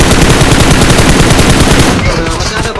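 Rapid automatic gunfire fills a video game match, loud sustained bursts close up that taper into a brief echoing tail.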